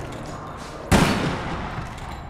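Gunfire in the online shooter APB Reloaded: one sharp, loud shot cracks out over a steady game background, with its tail trailing away afterward.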